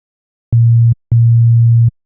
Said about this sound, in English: turn oscillator 2 on, and set both oscillators to the sine shape